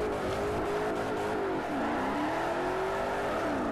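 Ford Pinto on 20-inch rims in Forza Motorsport 4, its engine revving loudly and climbing through gears, pitch rising and dipping around a shift, with brief tire squeal and no talking.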